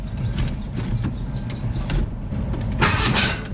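1991 Ford F150 engine turning over and catching, a rough low rumble that rises into a louder burst as it fires up, heard close by.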